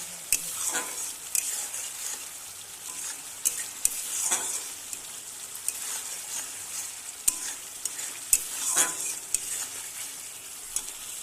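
Spice paste for hilsa curry fries in oil in a pan, a steady soft sizzle broken by repeated scraping stirs and light clinks of a spoon, close up and with no talking.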